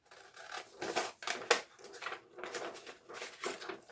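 Scissors snip through sweatshirt fabric for a pattern piece, a series of close, crisp cutting strokes in an irregular rhythm, quiet and alone.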